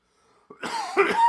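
A single short, raspy cough, close up, preceded by a faint breath and otherwise quiet.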